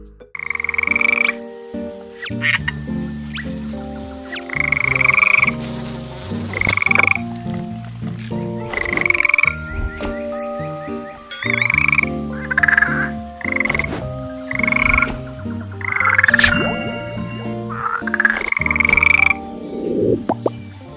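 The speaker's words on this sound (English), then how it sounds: "Red-eyed tree frog." A red-eyed tree frog of the rainforest canopy gives short, chirpy croaks again and again, roughly every one to two seconds, close and clear over a steady musical backdrop.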